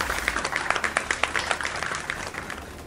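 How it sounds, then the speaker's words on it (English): A crowd gives a short round of applause, with rapid, overlapping claps that start strong and gradually thin and fade toward the end. "Round of applause."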